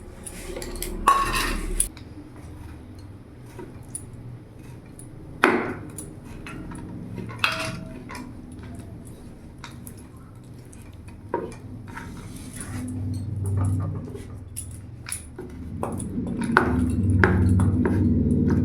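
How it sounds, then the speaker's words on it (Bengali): Boneless chicken being chopped into small mince pieces with a knife on a board, giving a series of irregular close knocks and clinks with quiet pauses, with no talking. "চিকেনটাকেও আমি ভালো করে কিমা করে নেবো, ছোটো ছোটো করে কেটে নেবো।"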